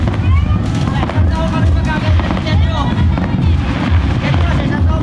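New Year fireworks crackle and pop far off, a continuous scattered rumble of bursts heard under nearby people talking.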